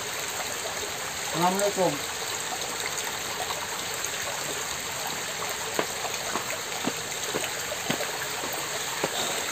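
Water trickling and flowing steadily while being collected for a healing remedy, a constant close stream running under a brief spoken greeting near the start.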